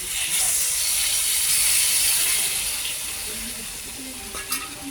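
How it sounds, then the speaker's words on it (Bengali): Water goes into a hot pan of soybean curry and sets off a loud, hissing sizzle that gradually eases, with a few light stirring clinks near the end. "এইবার পরিমাণ মতো জল ঢেলে দিলাম।"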